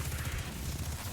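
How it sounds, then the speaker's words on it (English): Rapid SMG gunfire in a Destiny 2 lost sector, a dense continuous stream of shots, loud and close with no pauses. "we're gonna just shoot at it with the SMG"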